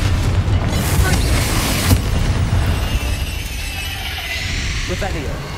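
A heavy rumbling blast from a Confringo spell explosion in the Hogwarts Legacy video game, loud and continuous, fading slowly over several seconds, with faint game sounds layered over it.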